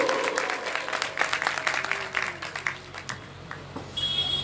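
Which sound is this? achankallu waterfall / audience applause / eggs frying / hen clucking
audience applause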